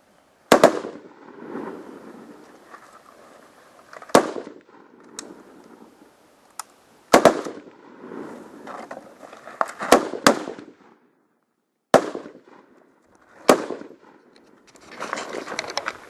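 Rifle shots fired from the prone position at a Commando Challenge 2015 competition in Bulgaria: several sharp, loud, close cracks spaced irregularly over several seconds, each trailing a brief echo, with faint ambient noise between.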